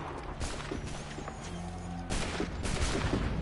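Musket volleys in Assassin's Creed 3 crack out in several dense bursts over a steady low battlefield rumble, with a louder salvo near the end.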